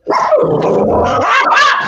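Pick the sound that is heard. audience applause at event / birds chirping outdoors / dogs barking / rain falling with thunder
dogs barking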